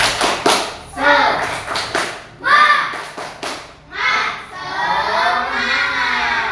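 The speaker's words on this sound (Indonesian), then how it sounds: "mari kita tepuk semangat dulu" Schoolchildren doing a rhythmic spirit clap, sharp patterned bursts of group clapping alternating with shouted chanting, ending in sustained group voices.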